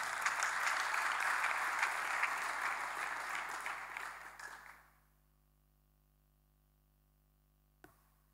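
A church congregation bursts into loud, dense applause that carries on for about five seconds and then stops abruptly, leaving near silence broken by one faint knock.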